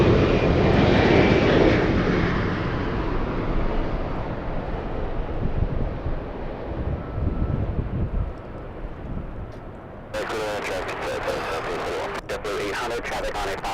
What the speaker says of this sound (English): we have United Airlines 1321 flying in from Newark